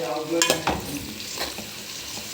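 A kilo of chicken stirred in a pan with a spatula, several scraping clatters over a soft sizzle, close and moderately loud, with no one talking.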